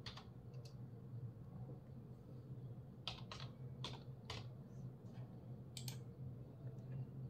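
Captcha being typed on a computer keyboard during an online form entry: a few scattered, light key clicks in small bursts over a steady low room hum, with no talking.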